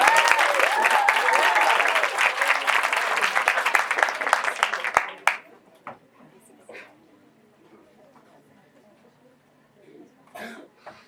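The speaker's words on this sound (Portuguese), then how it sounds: "Uma salva de palmas para Evelyn." An audience applauds a girl named Evelyn at a comics conference panel, loud dense clapping for about five seconds that stops abruptly, followed by quiet room noise, a few coughs and throat clearing.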